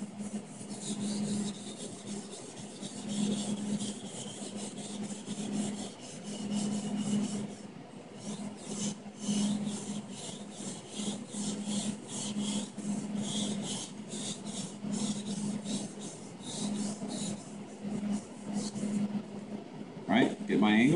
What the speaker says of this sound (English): you'll hear it gets quieter and quieter each time, because there's less stuff that I'm trying to grind off of my knife